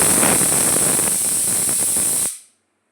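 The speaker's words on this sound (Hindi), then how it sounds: "और फिर मैंने ये सब मसाले डाल के खूब बढ़िया फ्राई कर लिए" Spices sizzle hard in hot oil in a pressure cooker with cumin, green chillies and asafoetida, a loud, steady close-up hiss that runs for about two seconds and then cuts off abruptly into silence.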